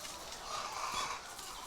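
Chickens at a poultry farm beside a village plant nursery cluck as a faint, steady background murmur, with no nearby voices.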